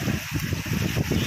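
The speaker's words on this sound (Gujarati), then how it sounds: "જોરદાર પાણી છે" Strong floodwater from torrential rain rushes through a river, a loud, unbroken broadband roar with churning low-end surges throughout the short span.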